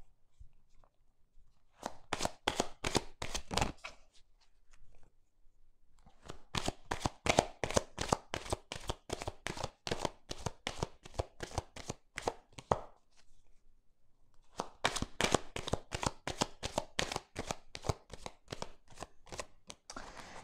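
Petit Lenormand cards being shuffled for a reading: three bursts of rapid, crisp riffling flicks with short quiet gaps between them, close and fairly soft, with no talking.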